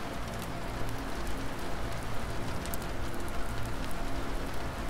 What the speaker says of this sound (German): Das Prasseln von Regen gegen die Fenster vermischte sich mit dem Geräusch deines Atems